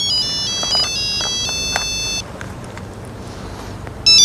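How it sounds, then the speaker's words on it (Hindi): A mobile phone rings in a room with a repeating electronic tone that plays, pauses and starts again, fairly loud and with no one talking over it. "इस वक्त किसका फोन आ गया?"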